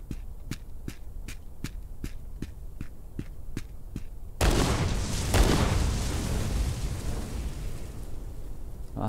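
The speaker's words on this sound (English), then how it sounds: "And we'll pop the explosive charge." A bridge blown apart by an explosive charge in Trans-Siberian Railway Simulator: a steady ticking countdown of about a dozen beats, then a sudden loud blast that rolls into a long rumbling roar and fades slowly.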